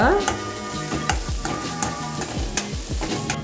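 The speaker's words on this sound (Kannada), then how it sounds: "ಹಾಗೆ ಇದನ್ನು ಸ್ವಲ್ಪ ನಾವು ಹೀಗೆ ಸ್ಟರ್ ಮಾಡ್ತಾನೆ ಫ್ರೈ ಮಾಡುವ." Onions frying with salt in a pan for a Mangalore-style squid sukka, stirred repeatedly: a continuous close sizzle broken by rhythmic spoon scrapes and knocks against the pan, with a few metallic clinks and no voices.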